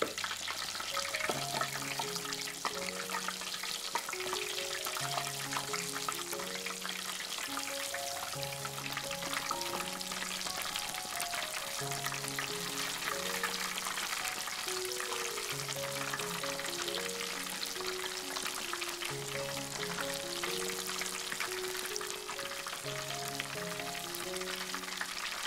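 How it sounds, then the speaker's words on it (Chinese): Thai shrimp cakes deep frying in hot oil, a steady crackling sizzle that runs throughout while soft background music plays. "炸约1分钟左右，翻面。 炸至两面呈现金黄色即可捞出"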